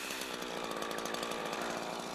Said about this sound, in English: Now it's time for the felling cut. Use either a pushing or a pulling chain.